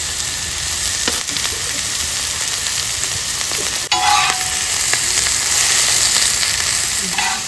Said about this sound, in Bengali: এটাকে একটু ভালো করে ভেজে নিই